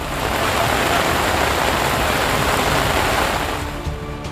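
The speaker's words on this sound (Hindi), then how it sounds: "सतना जिले के चित्रकूट में भी पिछले 2 दिनों से भारी बारिश हो रही है" Heavy monsoon rain pours down steadily in Chitrakoot, Satna district, a dense, continuous loud hiss with no break that eases slightly only near the end.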